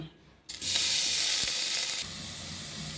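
Paste of ginger, garlic, shallot, green chilli and fennel seed drops into hot coconut oil for chicken curry. After a brief quiet moment, a sudden loud, steady sizzle bursts up close and eases slightly toward the end.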